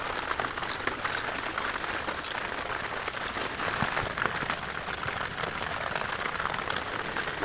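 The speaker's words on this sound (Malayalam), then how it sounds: "മഴ കൂടൂടാ." Rain falls steadily at a night campsite, a dense continuous patter on nearby surfaces with scattered louder drips and insects or frogs chirping faintly in the background.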